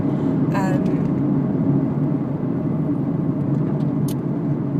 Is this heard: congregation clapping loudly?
no